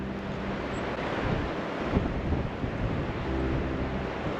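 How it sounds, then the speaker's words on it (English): Wind gusting through an empty campsite at Coyote Flats in the Eastern Sierra, a steady loud broadband rush buffeting the microphone with low rumbling surges and no voices. "We've actually got a pretty good breeze coming through here. I'd almost classify it as a wind."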